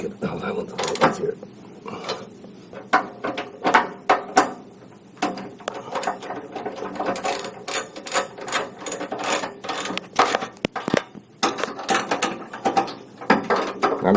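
Bumper bolts on a Toyota 100 Series Land Cruiser being snugged up by hand while a rear off-road bumper is fitted, giving irregular metallic clicks, clinks and scraping taps close by, with a voice talking over them at times.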